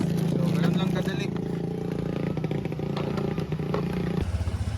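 A Honda ADV 160 scooter runs on a road test after a check-engine reset, its engine droning and clattering steadily up close, with a voice partly over it.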